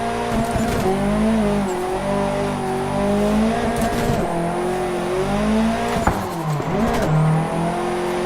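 Virtual Nissan S14 Silvia held at full throttle while drifting in Assetto Corsa, its engine droning and rising and falling in pitch, with tire squeal, a short gear-shift dip and no talk.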